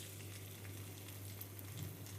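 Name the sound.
garlic frying in oil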